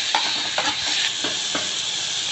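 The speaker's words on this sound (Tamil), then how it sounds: "தக்காளி வதங்கட்டும்" Tomato and onion sautéing in a frying pan for a quick Tamil snack recipe, a steady close sizzle broken by a few sharp spoon stirs and scrapes against the pan, with no talking.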